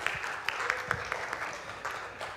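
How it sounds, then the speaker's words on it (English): Scattered clapping from a Sunday worship congregation on Father's Day: a handful of separate, fairly quiet claps in loose rhythm, thin rather than full applause. "We can clap for that."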